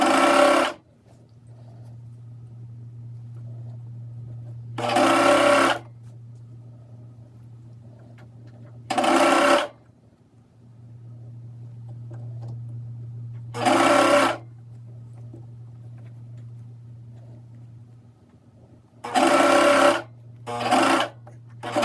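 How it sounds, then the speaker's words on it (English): A serger overlock sewing machine stitching a T-shirt neckband in five short, loud bursts separated by quieter pauses with a steady low hum. "we did everything we need to do on the serging machine or overlock machine"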